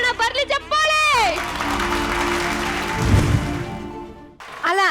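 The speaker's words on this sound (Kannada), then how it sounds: "ಬರ್ಲಿ ಚಪ್ಪಾಳೆ" Studio audience applause and cheering at a Kannada comedy show, a dense sustained clatter of clapping mixed with crowd noise and music, starting after a brief sung phrase and fading before voices return.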